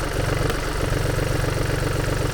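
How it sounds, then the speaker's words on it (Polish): A BMW 218d with the B37 diesel engine idles steadily up close, a rhythmic low diesel clatter that runs evenly throughout. "generalnie chodzi prawidłowo, silnik nie ma żadnych błędów w sterowniku"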